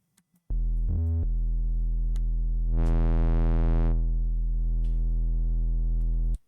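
Synth sub bass preset with distortion: one sustained, loud, buzzy low tone with a brief pitch dip near its start and a brighter distorted swell partway through, then an abrupt stop.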